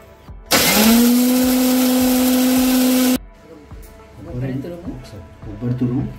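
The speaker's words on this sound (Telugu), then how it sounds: "మిక్సీలో వేసుకో." A kitchen mixer grinder runs loudly for about three seconds with a steady high whine, then stops abruptly, and someone talks afterward while cooking Telugu thati garelu with idli rava.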